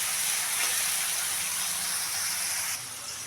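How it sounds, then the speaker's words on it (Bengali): Spices with salt and turmeric frying in a pan, a loud, steady broadband sizzle that carries on unbroken and eases slightly near the end, with no talking. "একটু ভেজে নেব।"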